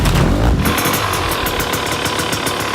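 A 2024 KTM EXC enduro motorcycle engine runs loud and close, a rough, rapid mechanical pulse held steady throughout, with no talking.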